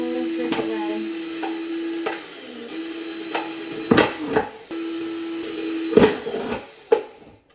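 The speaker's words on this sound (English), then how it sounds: "So I got my drill out and I just want to make sure I'm clear. And I'm just going to poke some holes this way." Power drill whining in short bursts as it pokes holes in a plastic container, a steady motor tone broken by several sharp cracking punctures and plastic crunches, close and loud.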